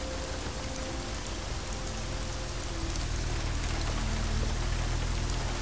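Rain in Deus Ex: Mankind Divided, a dense, constant hiss of drops pattering on surfaces with a low rumbling undertone, steady and close throughout.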